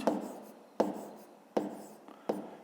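Close, quiet handwriting during fifth-grade math work, as a pen scratches on paper in four evenly spaced strokes that each begin with a crisp tap, with no voices.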